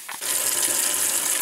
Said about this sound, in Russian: Моем вишню.